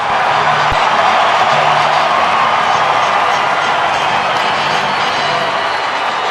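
Stadium crowd at a Giants–Dodgers baseball game roars in the ninth inning, a loud, steady, dense wall of cheering voices sustained without pause, no clear talk above it.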